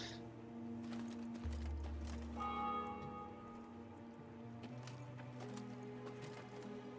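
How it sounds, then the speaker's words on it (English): Temple bells of Mother Melitele ring at some distance in Thronebreaker, several sustained, resonant tolls overlapping and decaying, with soft clopping hooves beneath. "they heard the bells of a temple to Mother Melitele, situated at some distance"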